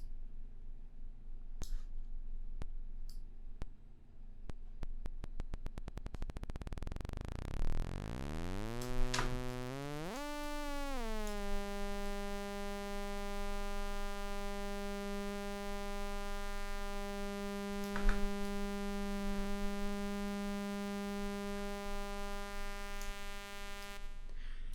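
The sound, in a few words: pulsar synthesis tone from a Max/MSP patch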